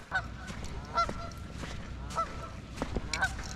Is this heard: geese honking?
yes